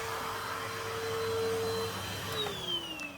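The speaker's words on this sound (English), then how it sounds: "I can't vacuum my whole house in 10 minutes, but I can vacuum the bits that we use the most." A household vacuum cleaner runs steadily during a quick house clean, its motor whine loud and close with a shifting pitch as it moves.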